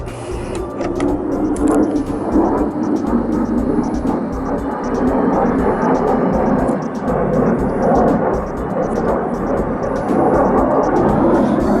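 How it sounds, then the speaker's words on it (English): A steady, loud roar of Canadian Forces military airplanes drones on overhead for the full duration, a broad rumbling wash with no pauses and no voices. "some of our Canadian Forces airplanes flying around here"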